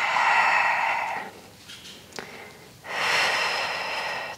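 A long audible exhale during a beginner Pilates exercise, a breathy rush fading into quiet, followed by another strong airy breath after a short pause.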